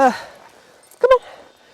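Dog approaching during an outdoor walk, giving a short double bark or yip after a voice fades, brief and fairly close.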